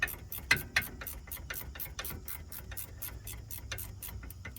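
A hand ratchet clicks rapidly and steadily while loosening the last 18mm rear brake bolt on a 2018 Dodge Durango GT, close and fairly loud, a continuous run of even pawl ticks with a few heavier clacks at the start.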